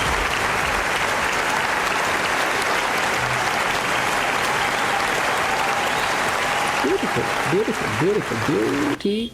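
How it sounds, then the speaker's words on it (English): Applause sound effect: dense, steady clapping from a crowd that stays loud and continuous throughout, with a voice briefly speaking over it near the end. "This also deserves claps right away."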